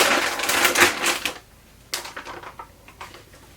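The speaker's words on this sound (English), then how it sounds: "I'm going to go ahead and open it just to kind of get a feel for it" Crinkly rustling and scraping as luxury candle supply packaging is opened, a dense crackling burst followed by a pause and then scattered lighter crinkles and taps, close and fairly loud.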